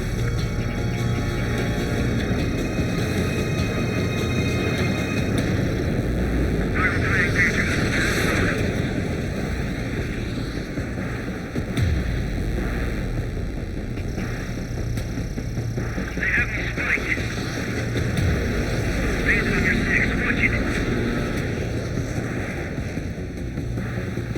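Jet aircraft in flight in the video game Ace Combat 7, a steady loud engine roar throughout with recurring bursts of higher tones laid over it.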